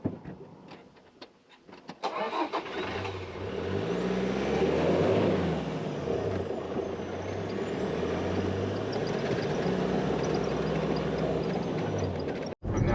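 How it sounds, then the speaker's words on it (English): A car travels a dirt road, with a steady engine and tyre rumble that rises after a quiet start and then runs continuously and fairly loud, with rough, uneven low tones, and ends in a brief dropout. "I'm now driving more than 5 hours on these dirt roads"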